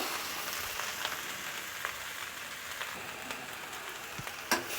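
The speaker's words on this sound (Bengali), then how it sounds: "আমি এটাকে আর একটু ভেজে নেবো" Pumpkin stems and potatoes fry in a pan, giving a steady soft sizzle and crackle with scattered pops and a louder clink near the end.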